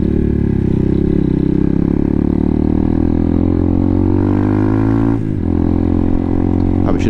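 A Hawk 250 motorcycle rides over a bumpy road, its engine loud, steady and close while the body rattles with clatter, and the pitch dips briefly near the end.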